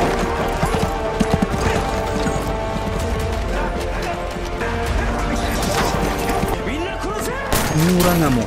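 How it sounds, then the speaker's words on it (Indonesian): Horse hooves clip-clop as a horse-drawn carriage races through a battle, the steady trotting mixed with crashes and dense background clamor, with a brief whinny-like sweep near the end. "Kereta kuda sudah menunggu."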